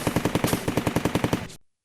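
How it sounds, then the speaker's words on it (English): A rapid machine gun burst in a WWII tabletop battle scene, about twenty evenly spaced shots in quick rhythm, loud and close, then abrupt silence. "With a roar of gunfire, he pulls the trigger and pours a wall of rounds into the advancing Germans."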